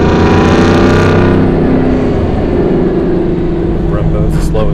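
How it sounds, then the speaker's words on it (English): A Hennessey VelociRaptor V8 pickup truck engine rumbles steadily, loud and close as the truck drives, with a deep throaty drone throughout. "this truck being all aluminum, it's lighter, it's more powerful, and it just sounds incredible"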